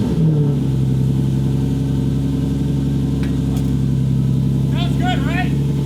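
Ford Focus ST engine running, a loud, steady idle with a strong low throb and harmonic drone held throughout, with brief chirping noises near the end.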